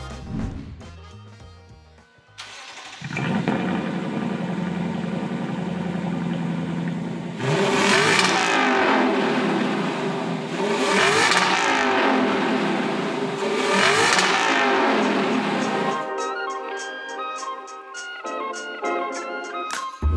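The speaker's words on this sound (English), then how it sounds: "it is a quad exhaust system and it does sound pretty good" A 2021 Lexus LC500 convertible's 5-liter naturally aspirated V8, 471 horsepower, barks through its quad exhaust in three sharp rising revs, each climbing and falling off, between steadier idle and a quieter settling rumble, loud and close with no talk.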